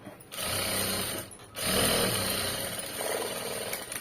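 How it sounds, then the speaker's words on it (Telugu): A sewing machine running a top stitch along a fabric border, its motor whirring loudly in two long bursts separated by a brief pause, close and without speech. "ఇంకొక స్టిచ్ ఇక్కడ వేరే సైడ్ మళ్ళీ ఇలా ఓపెన్ చేసుకుని టాప్ స్టిచ్ వేసేయండి"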